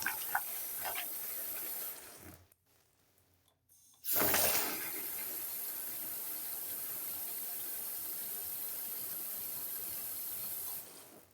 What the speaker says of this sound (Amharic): ከዛ ለብ ያለ ውሃ ቀዳለሁ ማለት ነው።